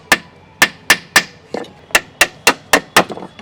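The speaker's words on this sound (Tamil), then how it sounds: "இப்போ வந்து நம்ம ஆணி அடிச்சுக்கலாம்" Nails are hammered into wood while building a homemade rocking horse, with about ten sharp, evenly spaced blows, each ringing briefly and close by.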